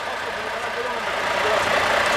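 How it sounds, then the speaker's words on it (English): A vehicle engine runs steadily at close range on a steel erection site where a crane is lifting, its mid-pitched idle rumble growing slightly louder toward the end. "I can't hear you because your engine, mate."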